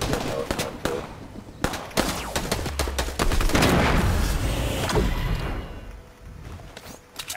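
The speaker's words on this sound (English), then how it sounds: "Oh, they're shooting at us." Gunfire in the video game Fortnite: rapid strings of shots and automatic bursts crackle nearly nonstop, close and loud, building to a dense sustained barrage before thinning out, with voices talking underneath.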